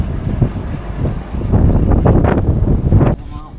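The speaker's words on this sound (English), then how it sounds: "It's cold and windy, you probably can't hear shit." Cold outdoor wind buffets the microphone in a continuous low rumble with gusty surges, loudest in the middle and easing near the end, while faint voices sit underneath.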